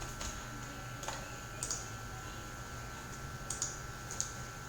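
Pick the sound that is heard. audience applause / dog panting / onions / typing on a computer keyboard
typing on a computer keyboard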